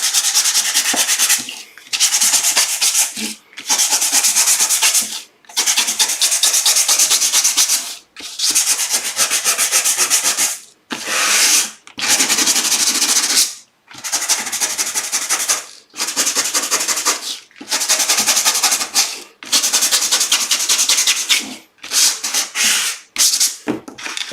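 Steady back-and-forth rubbing of sandpaper, close and crisp, in repeated strokes broken by short pauses, with no talking.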